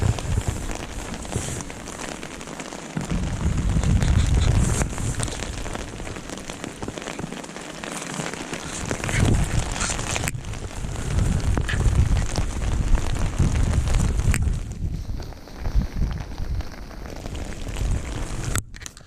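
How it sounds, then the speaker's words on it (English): Sleet and rain falling steadily outdoors beside a natural lake margin in February, a continuous close hiss and patter of icy drops on surfaces with gusty swells, no talking. "Weather's different at the moment. Bit of sleet in that, I think, coming down there."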